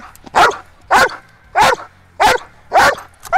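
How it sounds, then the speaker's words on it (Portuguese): A guard dog barks furiously less than half a meter away, five loud, evenly spaced deep barks in a steady rhythm with quiet gaps between, no talk. "Tem um cachorro a menos de meio metro do seu rosto latindo enfurecidamente"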